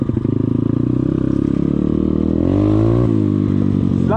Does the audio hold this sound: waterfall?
no